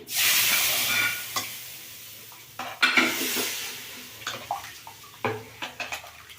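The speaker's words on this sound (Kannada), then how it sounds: "ಎಣ್ಣೆನಲ್ಲೆಲ್ಲ ಚೆನ್ನಾಗಿ ಫ್ರೈ ಆಗಿದೆ ಸಾರಿಗೆ ಹಾಕ್ತಾ ಇದ್ದೀನಿ" Hot oil tempering poured into lentil saaru gives a loud, close burst of sizzling that gradually dies down, followed by stirring and spoon clinks against the pot.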